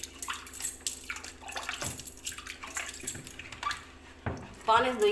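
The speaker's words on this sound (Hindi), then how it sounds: "पानी से धोइए पूरा साफ हुई है।" Water is splashed and poured over a fridge to rinse off soap, with close running and splashing water, a few drips, and someone talking over it.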